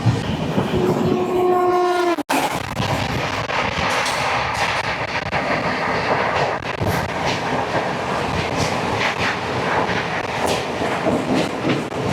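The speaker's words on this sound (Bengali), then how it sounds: "আমাদের ট্রেন এই মুহূর্তে পার করছে ডানকুনি জংশন" The Kaziranga Express runs through Dankuni Junction with a steady rumble and rhythmic clatter of wheels over rail joints, opening with a sharp horn blast before the close, continuous roll of the carriages takes over.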